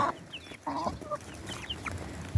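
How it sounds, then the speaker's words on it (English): Several short clucks from chickens, close by, in brief separate bursts over a low steady background, with no talk. "That little black one's a rooster."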